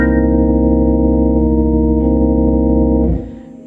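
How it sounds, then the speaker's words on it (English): A sustained, dense guitar chord, a sharp nine voicing with the root doubled an octave up, rings out steadily for about three seconds, then is cut short and fades into quiet. "I could play the root an octave up between the flat 7 and the sharp 9"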